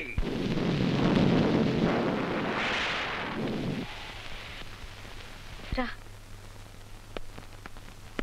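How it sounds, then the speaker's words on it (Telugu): Heavy downpour and rolling thunder in a film scene, a loud broad roar swelling over the first few seconds before fading, followed by a sharp crack and a quieter, steadier background. "అయ్యో, వర్షం వచ్చేలా ఉంది. రానే వచ్చింది."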